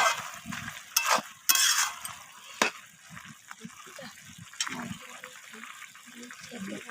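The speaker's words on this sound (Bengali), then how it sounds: "মশলাটা দিয়ে আমি আবারও নাড়াচাড়া করে কষিয়ে নিচ্ছি" Cabbage for Kashmiri ghonto with spice paste is stirred in a pan, giving faint irregular scrapes and clatters over a soft low sizzle, quiet and intermittent, with no talk.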